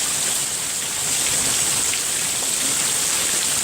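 Heavy rain during a severe thunderstorm, a dense, steady hiss of drops pattering on surfaces, loud and unbroken throughout with no thunder or voices evident.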